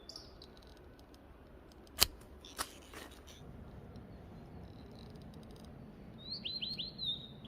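Sharp snipping clicks of pruning shears sound up close while harvesting wild fatsia shoots in a forest, followed later by faint, high chirping bird calls in the distance.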